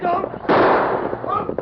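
A gunshot in an old western radio drama cracks out as a single loud, rough burst that fades over nearly a second, with voices talking just before and after it.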